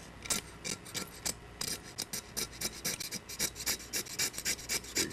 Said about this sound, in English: So you shave off some of the magnesium.